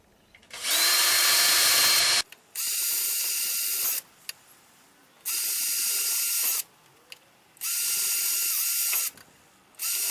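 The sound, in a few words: drill drilling holes in plastic tubing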